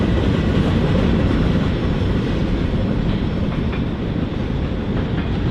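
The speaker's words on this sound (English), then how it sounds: "I wonder what train it was." A freight train of boxcars rolls past in a steady, loud, close rumble with faint rhythmic clatter of wheels on rail, no voices.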